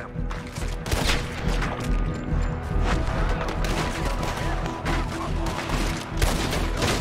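Rapid gunfire from a shootout in the video game Red Dead Redemption 2, loud repeated shots and volleys over several seconds under constant busy battle noise.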